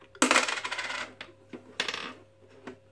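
Coins drop into an automatic ATM-style safe deposit piggy bank, landing as a bright metallic clatter followed by two smaller clinks, close up and otherwise quiet.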